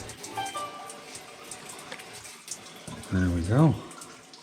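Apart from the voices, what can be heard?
rinsing engine with a stream of gasoline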